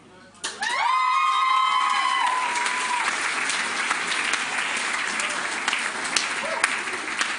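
Loud audience applause with scattered cheers and whoops fills a staff awards ceremony, beginning sharply after a brief tone and continuing steadily, with a voice briefly audible over the clapping.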